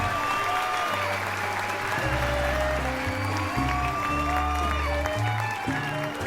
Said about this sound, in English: little round of applause for this extraordinary band